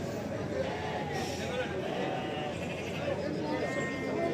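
Sheep and lambs bleat repeatedly at a livestock market in Ganja, with steady overlapping calls close by over a busy crowd murmur and voices talking throughout.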